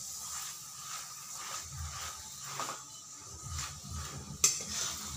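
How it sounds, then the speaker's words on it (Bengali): An aloo paratha fries in oil on a pan with a soft, steady sizzle, broken by light scraping and one sharp utensil clink near the end. "তেল দিয়ে এভাবে ঘুরিয়ে ঘুরিয়ে ভাজতে হবে, তাহলে সব দিকেই ভাজা হবে।"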